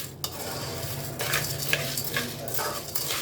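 Pasta being stirred in hot ghee with bay leaves, a close, steady sizzle with a few clinks and scraping stirs against the pot, all without speech.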